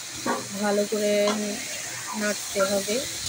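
Marinated chicken for chicken kosha sizzles and fries in a pan while being stirred, a steady hiss running under a voice talking close by.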